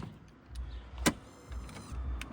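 Volkswagen ID.3 electrical systems waking after its 12V EGM/AGM battery is reconnected: a short whirring relay and motor hum with a sharp click partway through, close and fairly quiet.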